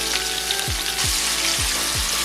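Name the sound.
white onions sautéing with seared short ribs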